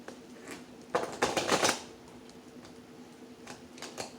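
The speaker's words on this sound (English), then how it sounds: "And then let's just do another riffle shuffle." Riffle shuffle of a deck of playing cards, heard as a short burst of fluttering, rapid card clicks midway through, with a few lighter card taps before and after in a quiet room.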